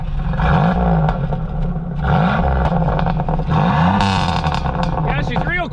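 A car engine after an engine swap revs repeatedly in loud surging bursts, each rise in pitch falling back before the next, with clattering and brief voices underneath.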